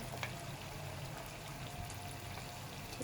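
Chicken pieces for extra crispy fried chicken frying in hot oil, giving a steady, soft, continuous sizzle with faint crackles throughout and no talking.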